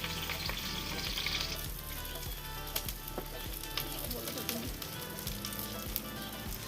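Onions fry in hot oil in a wok with a continuous crackling sizzle, close and steady, with occasional stirring clicks and a low background hum.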